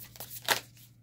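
A tarot card deck is shuffled in one quick riffle, a brief crisp flutter of cards close by, faint before and after.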